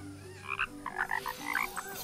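Frogs in Kena: Bridge of Spirits croak in a quick sequence of short, bubbly calls, moderately close, over soft background ambience with no voices.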